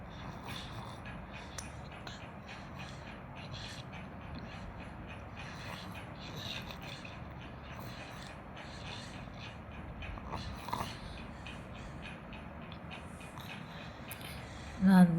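Sewing machine stitching over extra blouse lining cloth runs as a steady, continuous mechanical whir and rattle for a long stretch, close and moderately loud, with a brief louder knock near the end.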